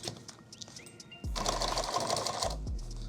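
A sewing machine stitching a bag runs in one steady, close, loud burst of rapid mechanical stitching after a quieter start, then stops with a few faint clicks. Nobody talks.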